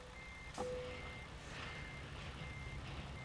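Faint repeating truck reversing beeps in American Truck Simulator over a low engine rumble, with a sharp click and a brief tone near the start.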